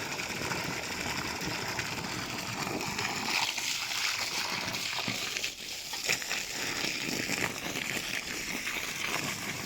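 Water gushes and splashes continuously at close range into the basin around a garden tree, a broad steady rush that briefly dips midway before resuming.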